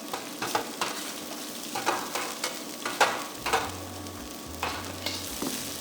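Carrots and broccoli are tossed in a hot pan for a shrimp stir fry, with a steady close sizzle broken by repeated scraping stirs and clinks of a utensil at an irregular rhythm.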